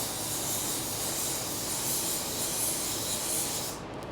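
A paint spray gun coats a car bumper, a steady close hiss of atomized spray running unbroken for about four seconds before the trigger eases off at the end.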